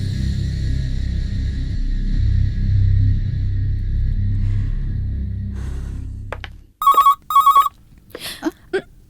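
A landline telephone rings in a home in an action movie, two clear electronic ring bursts following a low rumbling background that cuts out, with a few faint thumps after.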